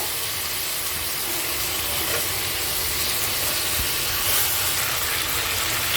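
Salted chicken curry sautés in a pan, a continuous hissing sizzle at steady volume with faint stirring scrapes and no talking.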